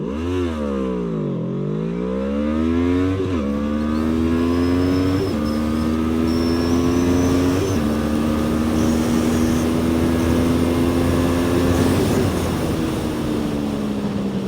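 A QJmotor SRV 600 motorcycle accelerates hard in a straight line, its engine revving up through several gear changes, each shift briefly dropping the pitch before it climbs again. The engine note stays loud and close throughout.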